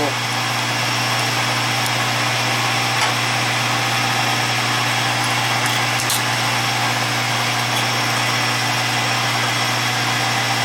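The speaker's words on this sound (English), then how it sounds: "Use a cutoff tool." Rotary cutoff tool grinding into a wax ring blank during jewelry carving, a steady high-pitched motor whine with a continuous hum held close and loud throughout, no talking.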